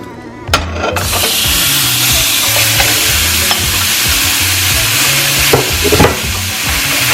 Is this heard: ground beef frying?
yes